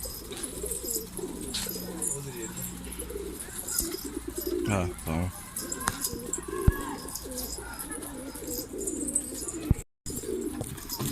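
Pigeon cooing at a rooftop loft, soft repeated coos mixed with faint chirps and some rustling, while people talk briefly in the background.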